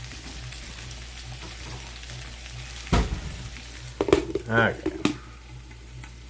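Hamburger and potatoes frying in a skillet give a steady, soft sizzle throughout, with a few brief scraping clatters near the middle and a person speaking briefly over the cooking.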